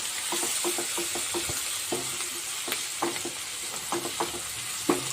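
Salt and turmeric being stirred into a frying drumstick and potato curry, a spoon scraping the pan in quick irregular taps over a steady, fairly soft sizzle.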